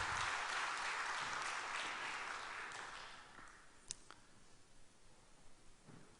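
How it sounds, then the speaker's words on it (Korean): Congregation applauding in a church, a broad wash of many hands clapping that starts full and gradually thins and fades into scattered claps and room quiet. "우리 뜨거운 박수로 한번 우리 축하를 하겠습니다"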